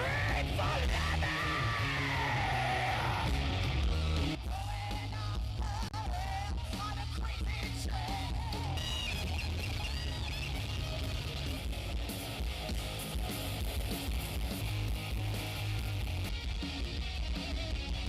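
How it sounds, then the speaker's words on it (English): A crowd at a tribute to Lemmy yells, whoops and screams in a loud, sustained roar that stays dense and unbroken throughout. "Let's hear it for Lemmy! Scream for Lemmy!"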